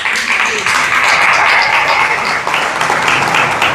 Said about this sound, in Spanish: Denle ese aplauso al Señor esta mañana